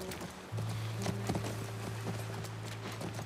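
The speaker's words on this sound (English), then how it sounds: "That's our horse." Horse hooves clip-clop near a ranch in The Last of Us video game, with steady repeated hoof beats over a low constant hum.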